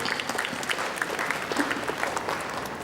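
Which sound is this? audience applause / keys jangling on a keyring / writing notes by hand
audience applause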